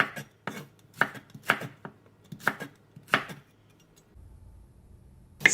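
A knife cuts carrots into julienne strips on a board, producing sharp, close chopping knocks in an irregular rhythm, about a dozen strokes with short pauses, no talking.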